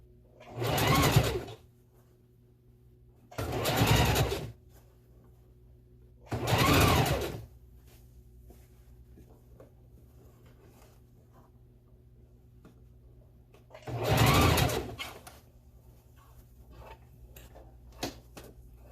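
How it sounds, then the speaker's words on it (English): A sewing machine stitches a closure onto a wig in four short bursts, each whirring run lasting about a second, separated by quiet pauses with faint handling sounds between. "then I'm gonna sew on the closure"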